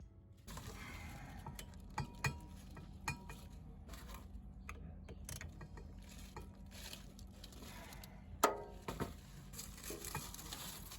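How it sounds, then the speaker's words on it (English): Wrench and ratchet working T60 star bolts on a Dodge Charger driveshaft, faint scattered metallic clicks and taps against a quiet garage hum, with a louder clank near the end. "Remove the T60 star bolts and use an 18mm wrench to support the nut"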